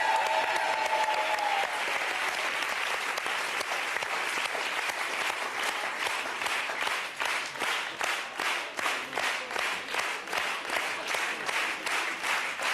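A standing audience at a French television show applauds Michel Galabru, opening as a dense wash of clapping that turns into rhythmic, synchronized clapping in steady beats, loud and alone.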